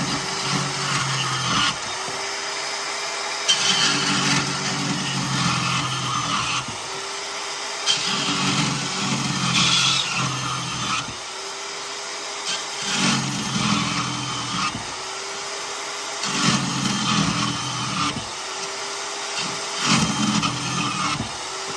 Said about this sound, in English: But chopping up some scrap metal,